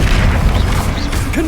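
Confringo blasting spell going off in the Hogwarts Legacy video game, a loud continuous booming roar with low rumble and crackling bursts, dense and sustained throughout with no pause.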